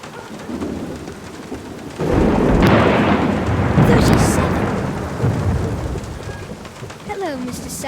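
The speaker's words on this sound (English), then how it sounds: "Are you counting the thunder?" A thunderstorm with heavy rain in The Black Mirror video game: steady rainfall, then a loud rolling rumble of thunder that swells and slowly fades while the rain keeps falling.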